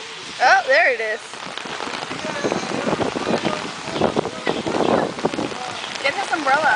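Rain falls steadily outdoors, pattering loudly and close with some wind buffeting, while people shout and talk over it.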